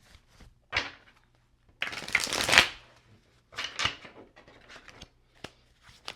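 Tarot cards are shuffled and cut by hand in a quiet room, with bursts of riffling and soft slaps separated by brief pauses.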